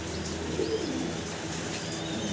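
Fancy pigeons coo in a low, continuous murmur close by, with a few soft chirps over a steady background.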